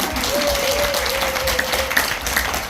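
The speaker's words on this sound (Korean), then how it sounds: "좀 큰 박수 한번 드리겠습니다" Audience applause at a Korean business gathering, a dense steady clapping that fills the clip, with a thin held tone running through its middle.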